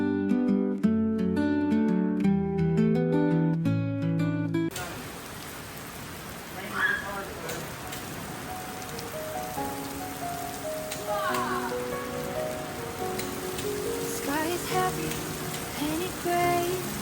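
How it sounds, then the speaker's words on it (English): Steady rain falls outside a home during a spell of heavy rain that flooded the basement, a continuous soft patter with scattered drips, entering after a few seconds of piano music and then continuing alone at moderate level. "Raindrops fall, they won't go away."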